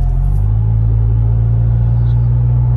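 A car cruises along a motorway on a long road trip, its steady low engine and tyre rumble droning loudly and evenly throughout without letup.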